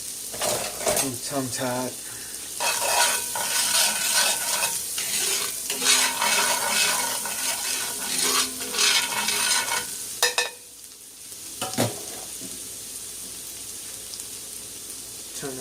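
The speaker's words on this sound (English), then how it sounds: "Get that garlic in there. Some fresh garlic" Fresh garlic sizzles steadily in a hot pan while a stuffed chicken wing dish is cooked, with stirring and utensil scrapes throughout and someone speaking over the frying.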